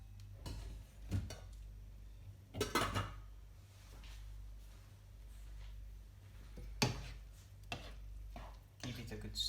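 Spaghetti being stirred through a puttanesca sauce of tomato, capers, anchovies and onion in a pan, with scattered bursts of a spoon clinking and scraping against the metal and quiet pauses between.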